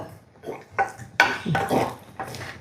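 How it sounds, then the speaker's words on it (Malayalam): Pineapple curry being stirred in a pot with crushed mustard seed added, several sharp metallic scrapes and clinks from a spoon against the pot, close and uneven. "ഒന്ന് ഇളക്കി കൊടുക്കാം."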